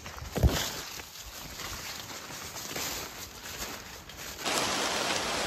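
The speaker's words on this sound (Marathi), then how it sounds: "पाऊस जोरात आलेलो आहे." Heavy rain patters on foliage outdoors, a steady moderate hiss with small gusts and swells, briefly louder near the end, and no voices.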